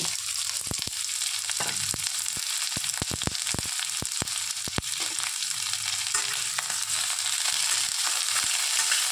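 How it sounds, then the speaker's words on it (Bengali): Chopped onion and ginger are stirred in hot oil in a pan, giving a continuous close sizzle with sharp scraping clicks from the utensil. No one speaks. "এই যে তেলটা গরম করেছি, এই যে পেঁয়াজ আদাটা আছে না, ওটা আমরা একটুখানি তেলে নেড়ে নেব"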